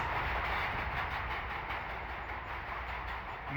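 A train rumbles past in the shooter Point Blank, a steady loud roar of wheels and rail noise that stays constant throughout, with no voices on top.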